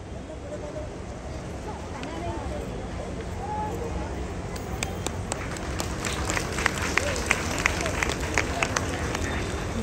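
Wedding guests begin clapping in welcome, a scattered patter of claps that builds up beneath ongoing crowd chatter and voices, growing denser toward the end.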